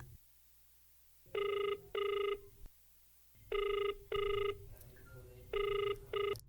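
Telephone ringback tone heard in an outgoing call, sounding in three pairs of bright electronic double rings separated by short pauses, loud and clear with no talk.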